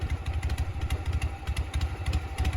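Harley-Davidson Shovelhead motorcycle engine running close by in loud, uneven pulses, its low lumpy exhaust beat swelling and dropping through a few rev changes.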